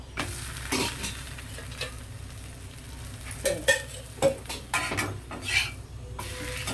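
A paratha fries in a pan greased with ghee and oil, with a soft steady sizzle under scattered scrapes and clinks of a spatula against the pan, close up and without talk.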